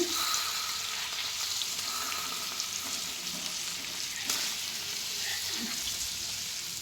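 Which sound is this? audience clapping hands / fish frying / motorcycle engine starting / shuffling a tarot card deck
fish frying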